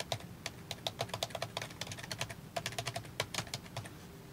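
Computer keyboard keys, the WASD movement keys, are pressed in rapid uneven taps while a player ball is steered in a Unity game, the clicks crisp and close with no voice over them.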